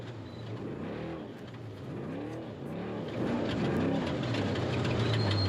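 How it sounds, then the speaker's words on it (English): A trophy truck engine revving under throttle in the Baja desert during the SCORE Baja 1000 race: loud, continuous engine roar with rising and falling pitch sweeps as the throttle is worked, fairly close. "Listen in at some of the throttle control"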